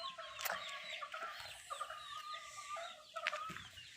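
Chickens cluck and call in a busy chorus, several birds close by with short bursts and a louder squawk near the end.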